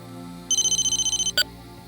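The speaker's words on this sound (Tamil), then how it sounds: "ரிங் போயிட்டு இருக்கு." A telephone ringtone sounds at close range as a rapid run of about a dozen bright electronic pulses, followed by one short separate beep over a quiet room.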